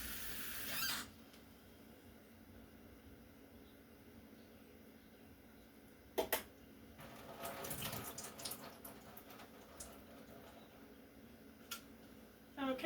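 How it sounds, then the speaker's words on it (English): Tiny blueberries rinsed under a running kitchen tap, a steady faint stream of water with a few louder splashes and clatters partway through and near the end. "I rinsed the blueberries"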